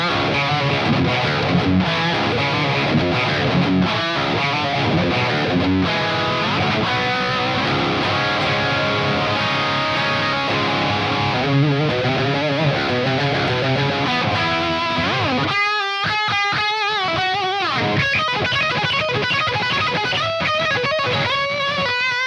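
A Dean Razorback electric guitar with hot, high-output active pickups plays a loud, distorted metal tone, with continuous dense chords and riffs running throughout and a brief break before a sparser picked passage.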